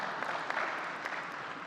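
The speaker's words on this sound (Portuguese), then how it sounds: "Um aplauso." Brief applause from an audience at a panel event as a professor is welcomed to the stage, a steady close wash of clapping lasting under two seconds.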